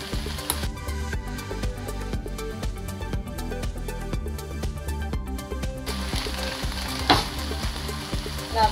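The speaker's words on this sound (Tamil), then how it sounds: "வெங்காய தக்காளி எல்லாம் வதங்கிச்சு, எதுவும் அடி எதுவும் பிடிக்கவே இல்லை" Onion and tomato sizzling and frying in a pan for oil-free chicken biryani, a steady close crackle with stirring scrapes throughout and no talk.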